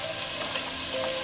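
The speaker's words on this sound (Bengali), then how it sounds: "সেগুলোকে আমি সামান্য একটু তেলের মধ্যে একটু ভেজে নিব" Vegetables frying in a little oil in a pan give a dense, steady sizzle for a brief moment, close and even, with no speech.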